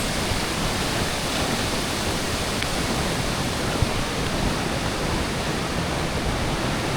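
Broad, steady roar of a waterfall at the falls in Valencia, Negros Oriental, heard up close as a dense, even rush of water with no breaks or voices throughout.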